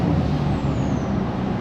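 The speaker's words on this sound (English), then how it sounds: "I truly love the sound of this truck. Ever since I did the axle dump, it really made this truck so enjoyable to drive." A GM pickup truck (1999-2024 generation) with an axle-dump exhaust gives a loud, steady, deep rumbling drone that holds even and continuous, close by and with no talk.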